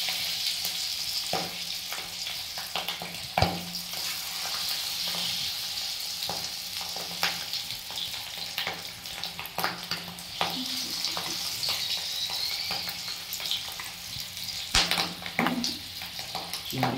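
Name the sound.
prawns frying in hot oil in a wok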